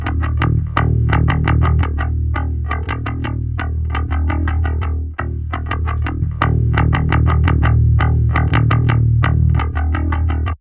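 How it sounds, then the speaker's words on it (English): Distorted bass line from a film soundtrack mix, its stereo widening effect switched off and back on: loud, continuous, rhythmic low notes with gritty upper harmonics and a brief dip near the middle, with no speech. "This is where the bass gets its body and it kind of spreads out in the mix."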